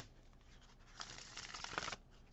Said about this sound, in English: Do 1 more shuffle just for good measure.